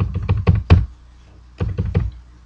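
Computer keyboard being typed on, entering an IP address: a quick burst of close, clicky keystrokes, a brief pause, then a few more taps.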